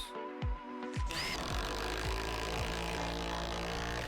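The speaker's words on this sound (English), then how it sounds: "I'm going to cut holes in the deck, slide some 4x4s down, and lag bolt them to the side" A power tool cuts into a wooden pool deck ahead of lag bolting 4x4 posts for a railing. After a second of quieter start-up sounds it runs loud and steady and close up, with no talking.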